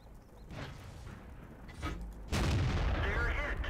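Tank cannon shell striking the front turret plate of an enemy tank in World of Tanks, a sudden loud impact boom that stays sustained and rumbling, preceded by quieter muffled battle noise and faint scattered thuds.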